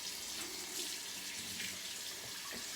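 Tap water running into a kitchen sink during hand washing, a steady splashing rush with small shifts in flow, close and fairly quiet.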